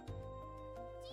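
A brief cat meow sounds right at the start, short and fairly faint, over a steady low background hum and soft tones.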